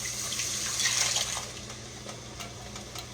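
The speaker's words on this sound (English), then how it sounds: "you put a cup of water or so in it, so I'm going to go ahead and do that" Water pours from a cup into a pan holding a fried roast to make beef stroganoff gravy, a soft splashing gush that peaks early, then settles into a quieter trickle.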